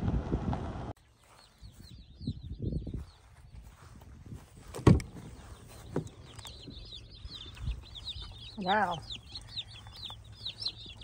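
A batch of one hundred tiny broiler chicks peeps in a high, continuous chorus while being unloaded into a stall, with a person speaking nearby and occasional handling bumps.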